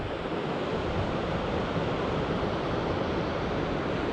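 Ocean waves and surf wash in on an incoming tide on a westerly-wind morning, making a steady, dense roar that stays constant and fairly quiet throughout.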